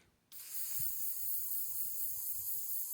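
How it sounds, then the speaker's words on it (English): White spray paint hissing steadily from an aerosol can as metal traps are coated, a continuous close hiss that starts abruptly and runs without a break. "I'm going to go ahead and spray paint all these traps white"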